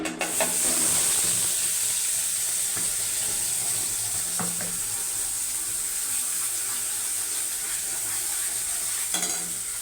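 Garlic, chilli and prawn paste sizzles steadily in hot oil in a kadai, a bright continuous frying hiss with a few soft clinks of stirring, close and with no voices.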